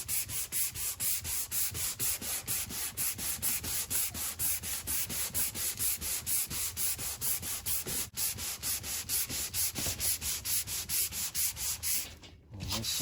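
Paint on the front end of a 1985 C4 Corvette is sanded by hand with steady back-and-forth strokes, a rhythmic scratchy rasp repeating about twice a second, close and continuous with no talking.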